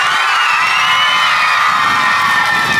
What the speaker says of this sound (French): On peut l'applaudir encore plus fort